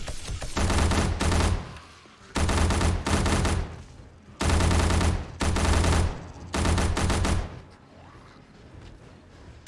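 Automatic gunfire in the zombie survival game 7 Days to Die during a horde night, with five loud, dense bursts of about a second each separated by short pauses.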